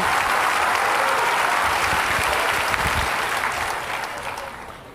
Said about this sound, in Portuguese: Ou você pode aplaudir bem forte ao nome daquele que é, que tem, que pode.